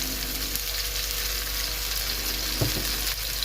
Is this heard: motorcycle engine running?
no